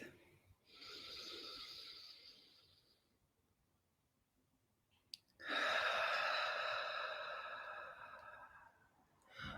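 Two slow, deep breaths, each a long airy inhale or exhale, heard close and quiet during EFT tapping for anxiety, separated by a pause of near silence.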